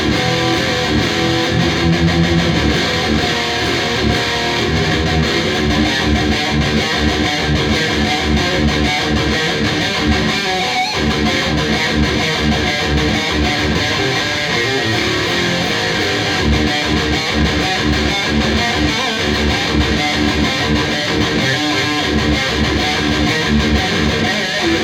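Electric guitar played through a TS9 Tube Screamer into an EVH 5150 Iconic 40-watt combo with reverb, giving a loud, steady, saturated overdriven tone that continues without a break, full and sustained from start to finish.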